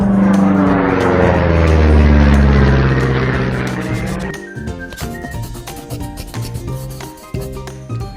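An airplane roars loudly and steadily with a broad rushing drone for about four seconds, then fades out as light music takes over.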